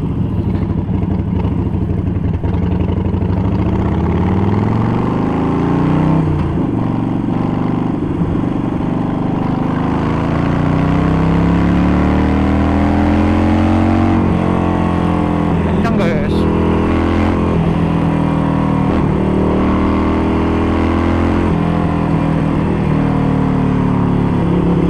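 Harley-Davidson Sportster 48 fitted with a Vance & Hines Short Shots exhaust, riding on the road with a deep, continuous rumbling V-twin note that rises and falls through gear changes, close and loud under someone talking throughout.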